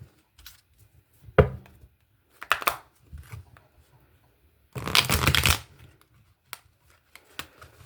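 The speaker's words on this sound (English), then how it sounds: "I'm going to start by shuffling the deck 3 times." A tarot deck is shuffled in the hands, with scattered riffling snaps and one longer dense burst of cards fluttering together, close up and crisp with quiet gaps between.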